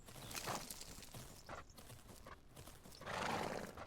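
In a video game, a horse gallops and jumps, its hoofbeats thudding in quick irregular bursts over a busy background, with a heavier landing near the end.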